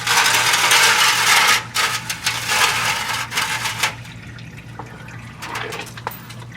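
Transmission fluid from a 2022 Ford F-350 with a 10R140 transmission drains steadily into a pan, a loud pouring splash at first that thins into lighter trickling and dripping.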